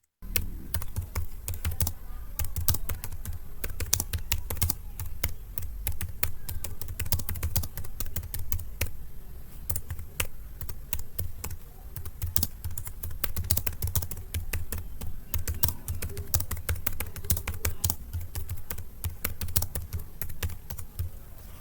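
Fingers type an AI prompt on a computer keyboard in a steady, continuous patter of close key clicks that runs the whole time without pause.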